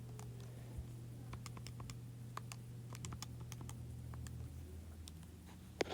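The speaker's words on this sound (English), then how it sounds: "And typing this in my calculator," Rapid, light clicking of keys being tapped on a calculator keypad, irregular in rhythm, close by over a low steady hum.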